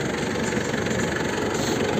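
A tractor engine runs steadily while harrowing a dry sunflower field, a continuous, even drone with a low rumble and no pauses.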